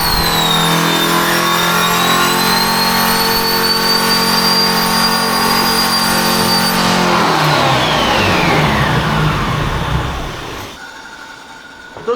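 A 453 cubic inch engine screams at sustained high revs on a dyno for several seconds, then the pitch sweeps down as it winds off and falls quiet near the end.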